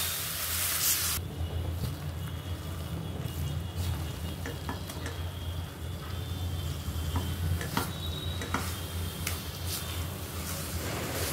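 Banana flower being stir-fried with grated coconut in a pan, a continuous sizzle with scattered scraping clicks of a spatula stirring, close and steady throughout.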